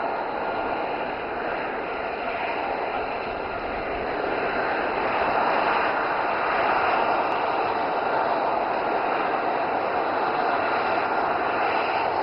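An aircraft lands during the Aero India 2025 air show, a steady broad engine roar that holds at a constant level throughout, heard alone with no talk.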